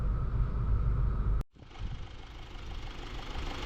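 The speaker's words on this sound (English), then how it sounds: "this engine sounds like it's brand new" A 9th-generation 2014 Honda Civic Si with 80,000 miles idles its straight four-cylinder engine up close, a steady, dense hum that cuts out briefly partway through and then resumes.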